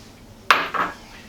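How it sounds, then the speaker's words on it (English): A spoon stirs green curry lentil soup with basil in a pot, giving two quick clinks against the pot close up, the first sharper than the second, over a quiet background. "And then just give it a stir."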